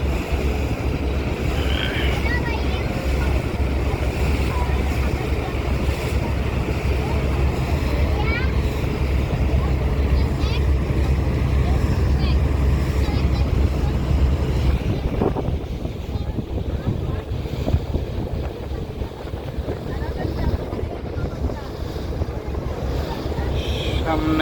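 Parabat-11, a large passenger launch, moves on the river at Sadarghat with a steady engine drone, wind buffeting the microphone and water washing along the hull throughout.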